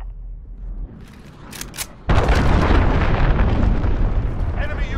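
A cruise missile strike explodes in a Call of Duty match: low rumble and faint effects first, then a sudden loud boom that rolls into a sustained roaring blast, with a voice heard faintly underneath.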